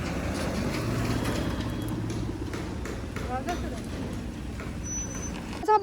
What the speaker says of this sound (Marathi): चला आपली गाडी निघाली आता.